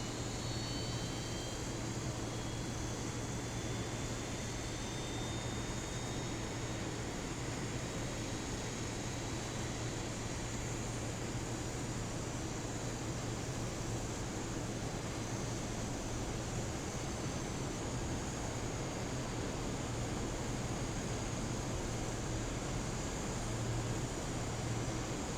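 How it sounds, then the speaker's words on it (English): Steady, continuous roar of A320 jet engines running in the X-Plane 11 flight simulator, a broad even hum with a faint whine, sustained throughout with no voices. "sounds like 2 good engines to me"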